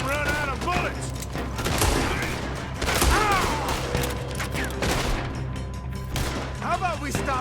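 Gunfire volleys in the Red Dead Redemption 2 video game during a robbery shootout, bursts of shots crackling over a continuous game soundscape while voices talk throughout.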